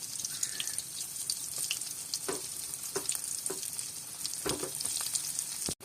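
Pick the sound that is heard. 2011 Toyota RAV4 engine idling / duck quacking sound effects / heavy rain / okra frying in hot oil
okra frying in hot oil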